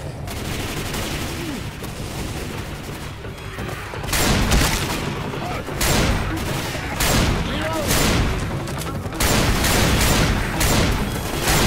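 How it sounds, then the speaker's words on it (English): A chaotic Left 4 Dead 2 firefight: repeated loud gunshots and bursts fire in quick irregular succession with grenade blasts mixed in, shouting voices heard over the din. "Grenades here! Grenade!"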